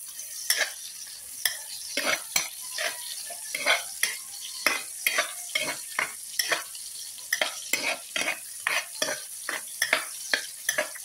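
Eggplant frying in a pan, with close, loud sizzling and a steady run of scraping stirs about every half second throughout.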